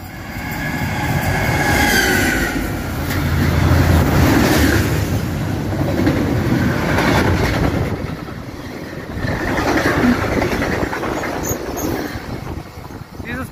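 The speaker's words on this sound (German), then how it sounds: "Dieses Mal eine Baureihe 152 mit dem gemischten Güterzug." A freight train hauled by a class 152 electric locomotive rumbles past close by in Bavaria, with continuous wheel clatter on the rails and occasional metallic squeal, loud throughout.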